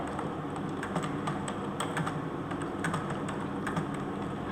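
Steady, fast typing of C code on a computer keyboard, with dense, even key clicks running continuously at close range and no talk.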